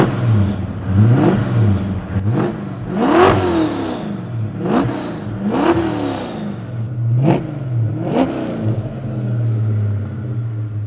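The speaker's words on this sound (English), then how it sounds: "Small block Fords sound great, man." A small block Ford V8 in an M81 McLaren Mustang revs hard in about six sharp blips, each climbing and falling back to a loud, lumpy idle between them, close and clear with no talk.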